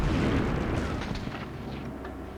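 A grenade exploding in the Medal of Honor video game, a heavy low boom with rumbling debris that trails off over a couple of seconds, with no talk.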